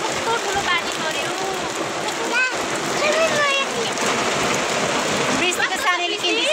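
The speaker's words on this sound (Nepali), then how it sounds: "कस्तो ठुलो पानी पर्यो।" Heavy rain pours steadily at a small shop in Nepal, a dense hiss that carries on throughout. People talk and birds or other voices chirp on and off over the downpour.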